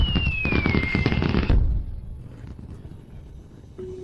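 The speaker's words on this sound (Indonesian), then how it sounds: "Ini kembang api yang indah." Fireworks burst in a dense crackling volley with a whistling rocket trail, then fade into quieter scattered pops and low rumble.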